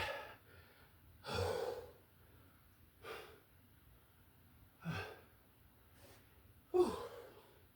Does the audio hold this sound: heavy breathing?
yes